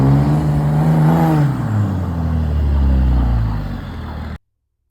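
A 6.7-liter diesel pickup engine revs up, then drops back to a deep low rumble that holds steady before cutting off abruptly, loud and close.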